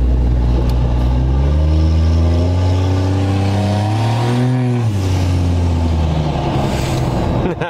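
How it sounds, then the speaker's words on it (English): A Cummins 5.9 diesel pickup with a performance turbo setup pulls hard, engine note climbing steadily through the rev range, dipping briefly, then rising again, loud and close from inside the truck, with no speech. "Trying to show you guys the boost and the acceleration here."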